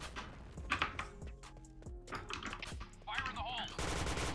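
Rapid bursts of gunfire in the shooter video game Point Blank, quick clustered shots under a voice, with a faint musical background and a rising electronic noise near the end.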